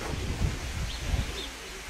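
Pigeons at their loft on a windy day giving two soft low coos, faint under steady wind noise.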